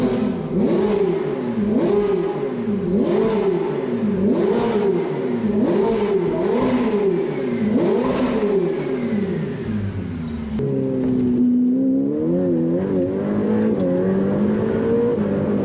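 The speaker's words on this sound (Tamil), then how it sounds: "ஸோ இதான் வந்து ஃப்ளாட் பிளேன் கிராங்க்ஷாஃப்ட் யூஸ் பண்ணி நம்மளுக்கு வர இன்ஜின் எக்ஸாஸ்ட் நோட்." A Ferrari flat-plane crankshaft V8 exhaust note, loud and close, revving up and down in a repeated rising-and-falling rhythm, then settling into a lower, steadier warble near the end.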